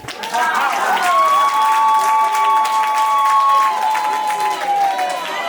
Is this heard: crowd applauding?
yes